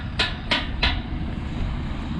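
Three sharp metallic taps from a small hammer, evenly spaced about a third of a second apart, close and clear, followed by quiet background hum.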